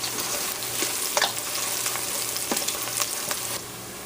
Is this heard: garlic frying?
yes